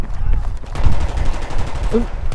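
Gunfire from the Battlefield 3 multiplayer game, a dense run of rapid shots close up, mixed with a loud constant background roar of battle noise.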